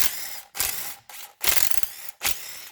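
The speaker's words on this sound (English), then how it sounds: "Now get the flex socket and remove that last piece right here." A ratchet with a 12mm flex socket working loose a starter bolt on a 2002 Honda CR-V, four close, loud bursts of rapid clicking separated by short pauses, no speech.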